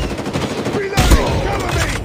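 Rapid automatic gunfire in Call of Duty: Mobile, a loud close burst of shots in quick succession, with a heavier blast about halfway through.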